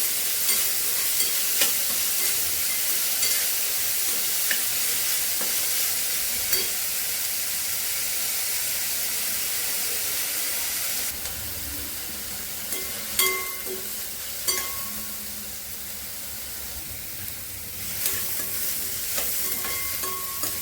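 Onion sautés in a pan for grated bitter gourd curry, a continuous close sizzle broken by repeated scraping stirs and clinks of a spatula, with no talking.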